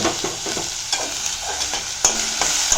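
Chopped chayote stirred into chana dal and urad dal fried in a pan, giving a close, continuous sizzle with brisk scraping strokes of a spoon and a few sharper clacks, no voices.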